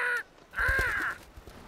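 A cartoon bird caws twice, a short harsh call followed by a longer, louder raspy one, close and clear with no talking.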